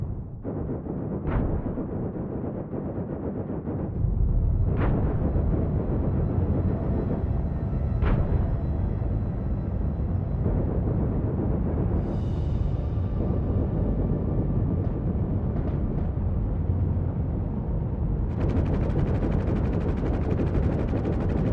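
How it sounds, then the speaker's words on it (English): Railgun fire from a ship in the space game In The Black, with a few sharp discharges cracking over a loud, steady engine roar that swells midway and persists to the end. "And shooting with the railgun."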